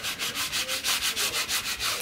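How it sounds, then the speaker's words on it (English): Scraper pressed hard over vinyl transfer tape on a wooden round farmhouse sign: a close, rhythmic series of about a dozen scratchy rubbing strokes, evenly paced and loud. "So I'm just going to scrape it really hard."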